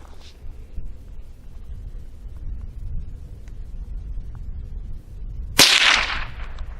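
A single sharp gunshot from a Rossi Gallery .22 pump-action rifle fired at a plate target, cracking loudly near the end after a quiet low rumble of outdoor background.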